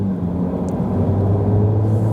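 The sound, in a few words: Ferrari 296 GTB engine starting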